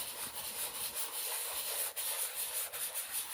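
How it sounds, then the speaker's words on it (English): Steady, continuous rubbing of an old emery stick sanding a stamped card surface to distress it, a close, even scratchy friction with small pauses in the strokes, heard alone. "I've just got this old emery stick and I am just basically sanding the surface"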